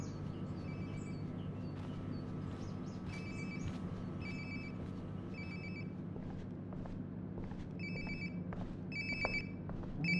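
A phone rings repeatedly in Life Is Strange: Before the Storm, bursts of ringing in a steady rhythm that grow a little louder toward the end, alone over a constant low hum.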